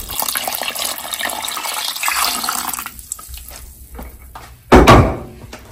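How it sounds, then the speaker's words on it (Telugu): Water from the pressure cooker used to boil lentils is poured into chicken for chicken haleem: a steady, rushing pour for about three seconds, a quieter stretch, then a sharp, loud splash near the end. "కలిపిన తర్వాత ఒక 1 లీటర్ వరకు వాటర్ని పోసి బాగా కలపండి."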